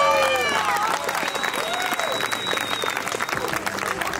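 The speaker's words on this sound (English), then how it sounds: "Give him a round of applause" Wedding guests applaud after a speech, steady dense clapping filling the room, with overlapping voices and a few shouts mixed in underneath.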